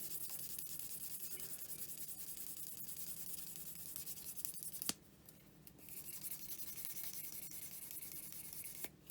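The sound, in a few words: buffing and gently sanding a metal pendant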